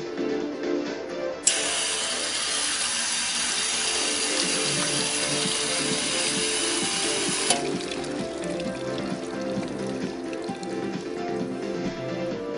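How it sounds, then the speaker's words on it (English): Water from a tap runs steadily for about six seconds to rinse a knife at an electronic knife sterilizer unit, a broad, even hiss that starts and stops abruptly over a low background hum. "you can easily wash and then put your knife back into the sterilizer"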